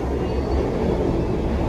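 A stainless steel Madiun Jaya economy train runs along the rails in Indonesia, heard from aboard as a steady, loud broadband rumble with low-frequency rolling noise and no distinct clatter, continuing unbroken throughout.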